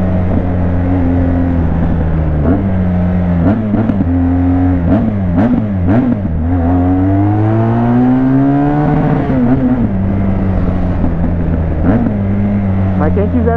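A loud R1200 motorcycle engine with no exhaust tip running close by, repeatedly revving up and down as it rides, with a steady rumbling drone throughout.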